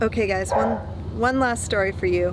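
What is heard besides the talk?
dog barking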